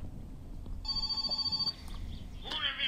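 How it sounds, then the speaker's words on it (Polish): A telephone rings in the video game My Summer Car, a steady electronic bell tone that repeats quietly under a low background rumble, followed by a brighter sound at the end. "telefon dzwoni"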